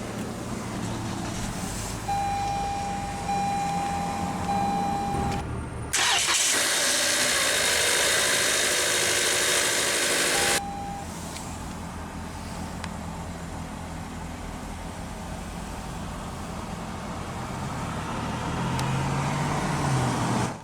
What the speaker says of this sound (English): let's go ahead and start the engine, and it of course does have push-button ignition